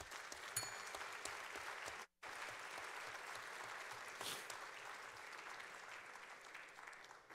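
Applause fills a parliamentary session hall, a steady dense clapping that runs for several seconds, breaks off briefly, then carries on at an even level with no voices over it.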